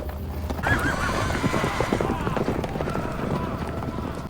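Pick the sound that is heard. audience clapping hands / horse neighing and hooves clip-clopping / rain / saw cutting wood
horse neighing and hooves clip-clopping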